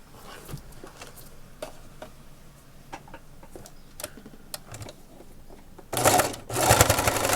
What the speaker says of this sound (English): Now I'm going to stitch it all the way to the ends on both pieces.